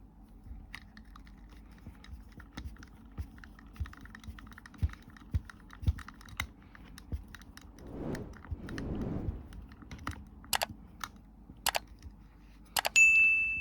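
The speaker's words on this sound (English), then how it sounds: "Screw that in place now." Small screws are driven into parts of a 1:8 scale DeLorean model kit, heard as faint irregular metallic clicks and taps up close, with a couple of brief rustling handling sounds and a sharp ding near the end.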